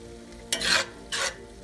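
Empanada filling seasoned with paprika, garlic pepper and lemon juice is stirred in a pan, giving three short scraping, sizzling strokes separated by brief pauses, fairly close and quiet.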